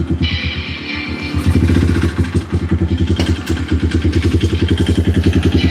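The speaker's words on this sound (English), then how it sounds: "Trying to increase the idle just a little bit. Keep it on without making it rev all crazy." A motorcycle engine idles in a garage with a steady, lumpy chug, then picks up into a faster, slightly uneven putter as the idle is raised, close and fairly loud throughout.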